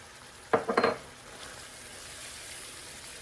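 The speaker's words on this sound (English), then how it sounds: "Just give that a stir." Flour is stirred into ground beef and its grease in a pan, a short cluster of scraping utensil strokes near the start, then a faint steady sizzle.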